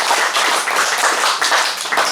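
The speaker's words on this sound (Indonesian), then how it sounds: "Kita tepuk tangan untuk beliau." A church community gathering claps for its newly appointed leader, a brief, loud burst of many hands clapping close by, dense and continuous for a couple of seconds.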